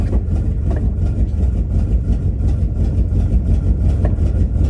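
Close, steady low rumble of a 1984 Chevrolet C30 crew cab truck engine idling roughly with a suspected bad plug wire or plugs, continuous and even throughout with no voices.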